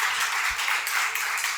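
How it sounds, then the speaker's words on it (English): Sustained audience applause at a tech talk on digital security, a dense even wash of many hands clapping together, fairly loud and continuous throughout with no clear pauses. "Can we have a big round of applause for the two"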